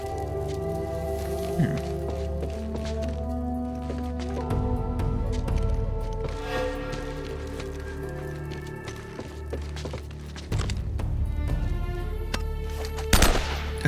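Gunfire in Uncharted: Drake's Fortune, with rapid repeated shots set against a droning game ambience and a sharp loud burst near the end.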